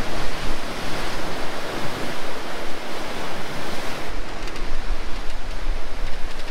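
Rough sea surf churns and crashes continuously against rocks on the south coast of France, a loud broad wash with rising and falling surges and some wind buffeting the microphone.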